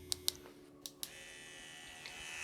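An EMALLA Grand tattoo pen fitted with a cartridge and no kickstart gives a faint, steady buzz after a few sharp clicks of handling, close by and with no voices.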